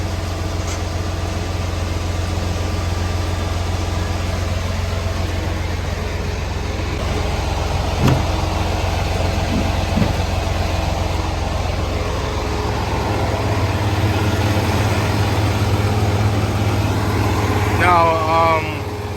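A semi truck's diesel engine idles with a steady low rumble during trailer coupling, with a few clanks and a short squeal near the end, and someone talks over it.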